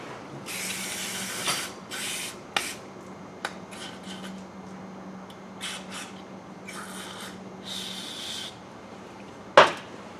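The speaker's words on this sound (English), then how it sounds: "It's non-chlorinated, so it's ozone friendly, and we're going to spray this out" Several short bursts of aerosol contact cleaner spray hiss close up into a 2001 Suzuki Bandit four-cylinder carburetor, separated by pauses, with a low hum underneath and a sharp clunk near the end.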